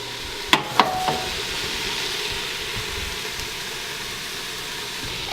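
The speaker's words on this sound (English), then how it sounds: "Once you put your vegetables in the pot, you can turn it down to medium and cook it for about 5 to 10 minutes until they're translucent." Vegetables cook in a pot on medium heat with a steady, soft sizzle throughout, broken by a few sharp clinks of a utensil near the start and at the end.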